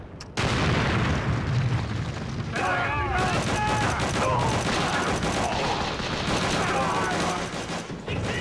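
Grenade blast and dense gunfire in the video game Call of Duty: Roads to Victory: a sudden loud burst followed by sustained, crackling volleys of shots and booms, with voices shouting over the din throughout.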